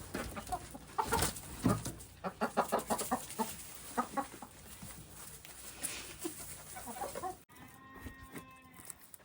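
Friendly farm hens cluck in a steady, close series of short calls over a faint outdoor background.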